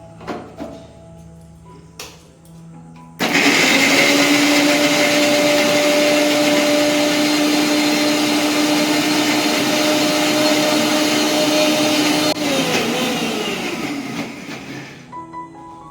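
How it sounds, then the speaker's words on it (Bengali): A kitchen mixer grinder blends tomato paste with a little water, starting abruptly into a loud, steady whirring drone with a constant motor whine, running about nine seconds before spinning down and fading out. "সেটা এবার পেস্ট করার জন্য মিক্সার গ্রাইন্ডারে দিয়ে দিলাম।"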